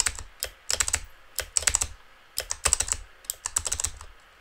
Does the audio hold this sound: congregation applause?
no